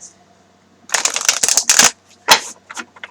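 Cards are riffled and shuffled up close in several quick bursts of crisp flapping, with short pauses between them.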